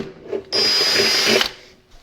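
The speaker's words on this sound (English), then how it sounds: "I'm just getting a 4mm drill bit just to make the hole a bit bigger so we can fit the rivet in there." A drill with a 4mm bit bores a hole for a rivet during restoration of a Morris Minor car, a steady loud whine lasting about a second between quieter handling noises, no talk.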